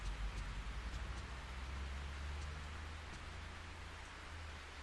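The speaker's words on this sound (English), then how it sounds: "A light drizzle has been falling for several days." A light drizzle in the video game Project Zero 3 makes a steady, soft hiss of rain with faint scattered drop ticks and a low rumble beneath, continuous and without speech.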